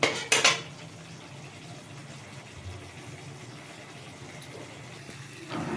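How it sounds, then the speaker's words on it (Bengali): Masala is stirred in a frying pan with sharp metal scrapes and clanks at the start and end, and quieter scraping in between. No one speaks. "যতক্ষণ না মশলাটা তেল ছাড়ছে ততক্ষণ আমি মশলাটাকে ভাজবো।"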